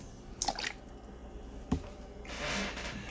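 Water poured into a small dish sitting in the corner of a tarantula enclosure, a brief trickle and splash that follows a few light knocks as the dish is set in place.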